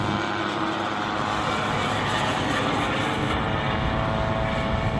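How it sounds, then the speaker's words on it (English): A Ziroli all-balsa Panther electric ducted-fan model jet flies at an air show, its loud, steady high-pitched whoosh and whine filling the whole stretch without a break. "The electric jet certainly does go fast."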